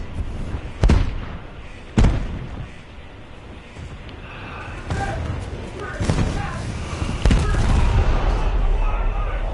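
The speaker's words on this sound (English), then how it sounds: "there goes the ammunition for one of the turrets" Turret ammunition cooking off aboard a warship in the War Thunder naval battle game, heard as several sharp booming blasts and cracks over a rumbling battle bed, with someone talking through much of it.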